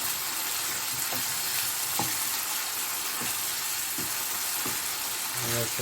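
Bitter gourd (karela) frying in a pan, a constant loud sizzle with faint occasional clicks of stirring, close and alone without talk.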